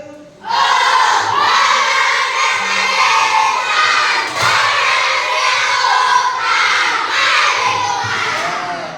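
A classroom of children shouts and cheers together in one loud, sustained burst lasting several seconds, with slight swells and dips in volume.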